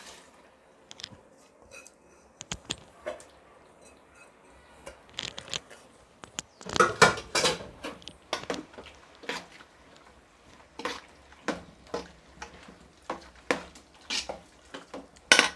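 Cooked chana dal goes into a pot of boiling goat blood curry, giving sparse clinks and wet splatters, then a busier run of spoon-on-metal scrapes and stirring taps, close and moderately loud.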